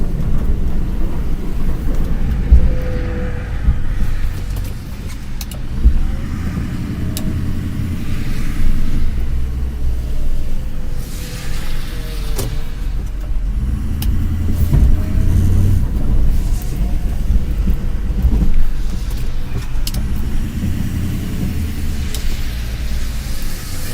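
Car pulling into a parking space in snow, a low steady engine rumble with occasional bumps and creaks, fairly loud and continuous for the whole stretch without talk.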